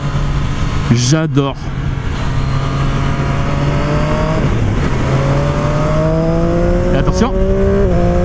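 A Triumph Street Triple 765 RS motorcycle revs and accelerates close by, its engine pitch climbing through several gear changes with quick shifts, while someone speaks briefly over it.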